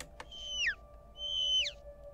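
Two clear bird calls in the horror video game Angels of Death, each a bright whistled note ending in a quick downward sweep, spaced about a second apart over a steady low electronic hum.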